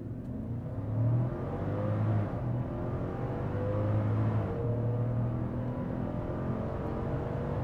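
An Infiniti FX50 with a 5.0 V8 accelerates hard during a test run, its engine note climbing through rising gear sweeps with a whirring drivetrain, loud and close.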